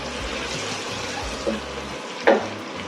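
Onions seasoned in oil are stirred in a cooking pot outdoors, a soft, low sizzle broken by two brief spoon knocks against the pot.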